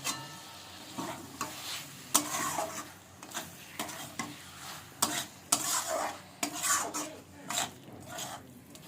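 Spices and fat fry in a pan while a metal spoon stirs them, with rhythmic scraping and clanks over a continuous sizzle, close and clear, with no talking.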